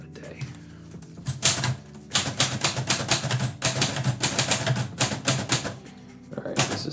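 Typing on a vintage manual typewriter, with dense bursts of sharp mechanical key strikes and clacks in an uneven rhythm, loud and close, broken by short pauses, while a voice speaks over part of it.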